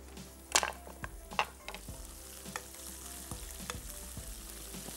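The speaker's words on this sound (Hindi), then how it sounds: "पहले लहसुन के बाद मिर्च को फ्राई करेंगे" Garlic and chilies frying in a pan, a steady close sizzle punctuated by sharp scrapes and taps of a spoon against the metal, with no talking.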